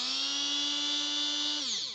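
A Scarlett blender motor runs at its higher speed with a steady high-pitched whine like a dentist's drill, close and loud, then winds down in pitch at the end.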